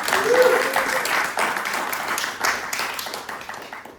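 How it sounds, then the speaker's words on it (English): Audience at the first UC Founders Forum, an entrepreneurship showcase event, applauds steadily for about four seconds, a dense wash of clapping that stays fairly loud and then eases off slightly toward the end. "So big round of applause for everyone who showed up."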